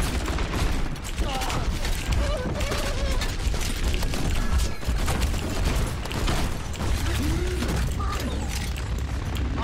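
Dense Overwatch gunfire with shots whizzing past, a loud continuous barrage of cracks, booms and mechanical clatter filling the whole stretch, with game voices faintly mixed in.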